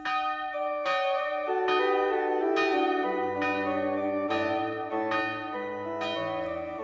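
Church bells ring in a slow sequence of about eight loud, clear strikes, each tone hanging and overlapping the next, with no voices present.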